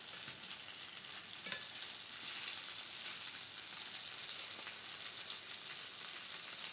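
Carinthian noodles fry in browning butter in a pan, a dense continuous sizzle with a few soft crackles, close and moderately quiet.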